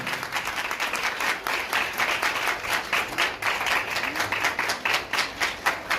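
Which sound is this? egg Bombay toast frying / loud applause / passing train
loud applause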